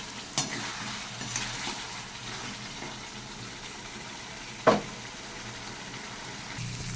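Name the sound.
spice paste being fried and stirred in a pan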